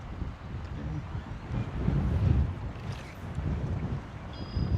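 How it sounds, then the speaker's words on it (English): Strong wind gusts over a pond during bass fly fishing, buffeting the microphone in low rumbling surges that swell and ease. "It's like very windy."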